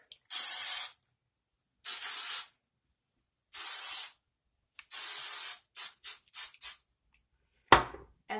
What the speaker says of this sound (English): So I just hairspray my whole head.